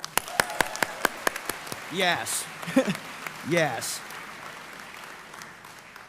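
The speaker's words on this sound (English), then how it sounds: "clap your hands" Scattered hand claps from a convocation audience, a handful of sharp separate claps in the opening seconds before a voice speaks over a quieter room.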